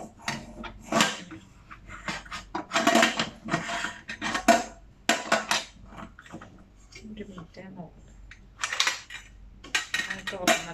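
A heavy 3-litre metal storage container from an online order being handled, with irregular clanks and knocks of metal close by and brief talk between them.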